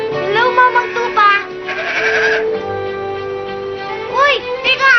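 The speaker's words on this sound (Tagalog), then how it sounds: "Hello, Mamang Tupa" A sheep in a Tagalog-dubbed animated series bleats loudly in several wavering, nasal calls. There is a short pause in the middle, and a voice can be heard alongside it.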